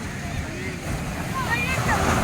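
Big ocean waves at Tiwitiwi Beach in Albay make a steady broadband wash with wind buffeting the microphone, and a person's voice rises briefly over the surf.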